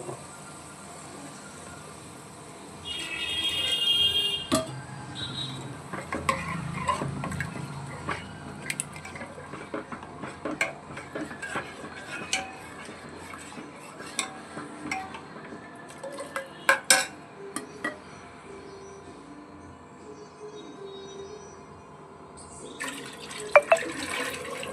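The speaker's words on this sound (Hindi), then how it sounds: "पहले डालेंगे इसमें पानी" Water pours and splashes into a cooking pot on a home stove, with clinks of utensils and metal dishes mixed in, close and moderately loud with no talk.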